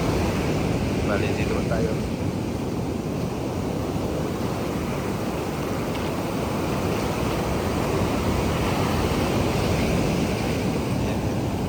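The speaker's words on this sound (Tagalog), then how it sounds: "Ayun lalaki ng alon." Big ocean waves crash on the shore during rough weather, a loud continuous roar of surf mixed with wind buffeting the microphone, and a person speaks briefly over it.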